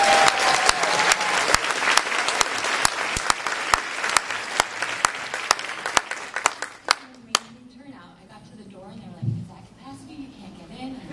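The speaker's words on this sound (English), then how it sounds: "a huge round of applause, a devastating round of applause for Sierra Hahn" Loud, dense applause from a convention panel audience at New York Comic Con, with sharp individual claps standing out, thinning out after about seven seconds into scattered claps and a few voices.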